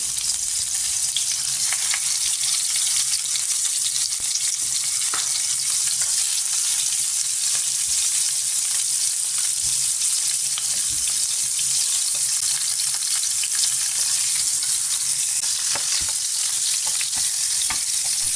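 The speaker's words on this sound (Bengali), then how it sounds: "প্যানটা গরম হওয়ার পর আমি তেল দিয়ে এক এক করে সবগুলো মাছ ভাজার জন্য দিয়ে দিচ্ছি" Rohu fish heads fry in hot oil in a pan, producing a loud, steady, close sizzle with faint crackles throughout and no speech.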